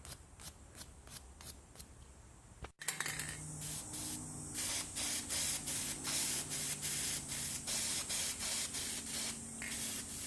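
Repeated spray-paint bursts coating bolts from an 8.8 axle on a Ford F250 restoration, a few short puffs then a quick run of about a dozen rhythmic hissing sprays, close and loud with no talking.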